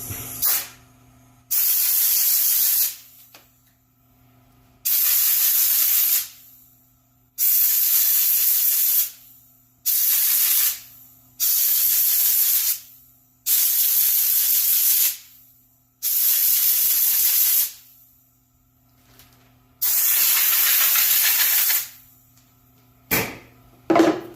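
Compressed air, turned down with a regulator, blasts through a string trimmer air filter in about nine loud, close bursts of hiss, each lasting one to two seconds, separated by short pauses and a faint background hum.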